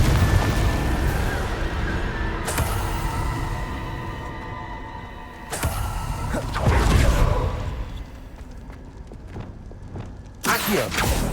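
Confringo spell explosions in Hogwarts Legacy go off as several deep booming blasts at irregular intervals, each with a whooshing, crackling tail over a busy game background.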